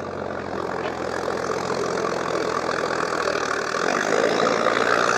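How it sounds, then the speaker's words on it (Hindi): Sonalika DI 745 tractor labouring up a muddy slope, a steady loud diesel drone that builds slightly in strength toward the end, continuous with no talk. "ट्रैक्टर पूरा जोर लेने लग रही है।"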